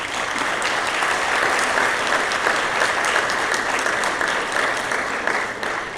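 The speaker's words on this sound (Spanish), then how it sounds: "Le damos un aplauso y bienvenida, Marta." An audience applauds to welcome a speaker at a design and public policy talk, a steady, dense clapping that runs strongly the whole time.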